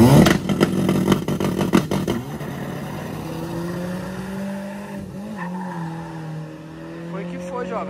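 A street race car accelerates hard and close, with a loud rising engine note and tire noise that fade as it pulls away, while someone talks over it.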